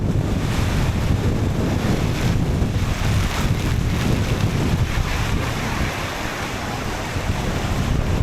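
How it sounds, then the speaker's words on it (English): Strong winter storm wind gusts buffet the microphone in loud, roaring bursts on a mountain below freezing, with rushing water or surf churning underneath throughout. "some of those gusts just come out of nowhere"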